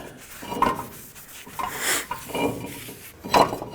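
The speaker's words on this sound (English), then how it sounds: "Now flip it over and clean up the front side." A front brake pad from a 2005-2010 Pontiac G6 is scrubbed clean on its front side, giving short irregular scraping and rasping strokes close by, with a few louder rubs between pauses.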